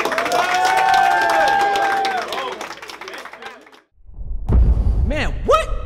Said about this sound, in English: Clap that shit up.